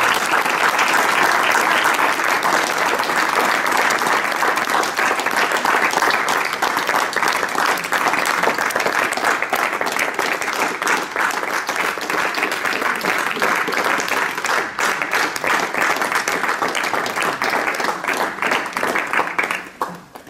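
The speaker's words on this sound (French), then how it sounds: "je vous demande de les applaudir" At a Victor Hugo poetry show, the crowd claps for the festival organizers in long, loud, sustained applause that stays full for about twenty seconds before stopping abruptly.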